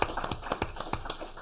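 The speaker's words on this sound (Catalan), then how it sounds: "Aplaudim una vegada més" Scattered hand claps from an audience after a talk at a conference, quiet and brief, with a few irregular claps and no steady crowd roar.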